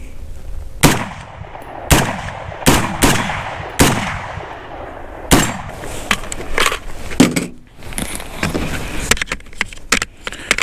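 An AR rifle fired shot after shot through a magazine outdoors: loud, sharp cracks at an uneven pace, some spaced about a second apart, others in quicker bunches, each followed by a short echoing tail.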